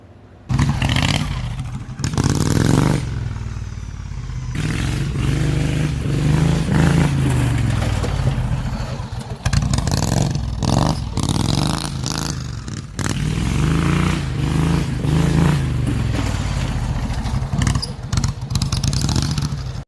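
A hot rod tractor with a screaming V-twin engine drives and revs hard, the engine note rising and falling in repeated loud surges with rattling and scraping as it runs close by.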